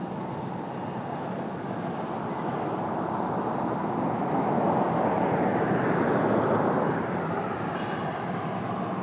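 An airliner takes off from runway 30, a loud sustained broadband engine roar that swells steadily and holds strong, with no talking.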